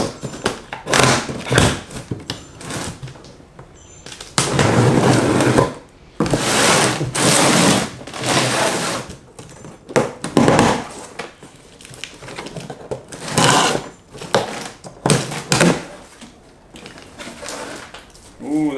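A screwdriver pries open a cardboard box of car parts, a BMW race diffuser, with loud bursts of scraping, tearing and thudding separated by short pauses.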